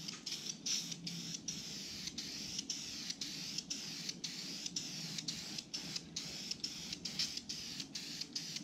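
Spray paint hisses onto a metal art piece in a paint booth in a quick series of short, evenly spaced bursts separated by brief gaps, close and moderately loud.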